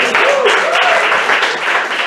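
Live comedy-club audience applauding a performer named Carlos at a one-year anniversary show, a steady dense wash of clapping and cheering filling the whole stretch, with a couple of whistles rising through it.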